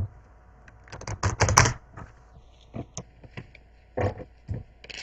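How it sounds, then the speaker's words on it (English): A deck of crystal-themed oracle cards being shuffled by hand, giving quick papery riffles and taps in short bursts with brief pauses between them, close and fairly quiet with no talking. "So now I'm going to shuffle the cards."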